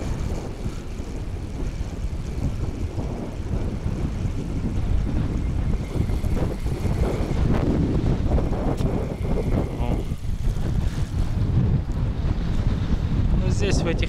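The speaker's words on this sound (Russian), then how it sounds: "Ну, здесь в этих местах частенько ветер." Strong wind buffets the microphone continuously at a fishing spot, roaring and gusting with heavy low rumble for the whole stretch, loud and close.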